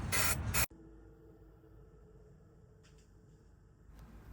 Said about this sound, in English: To prime the mask for paint, I'm going to use Plasti dip spray paint